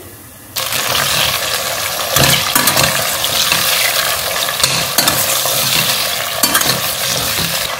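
Tomatoes drop into browned frying onions for a mutton tomato curry, setting off a sudden loud sizzle that continues steadily, with repeated scraping stir strokes of a spoon against the pan.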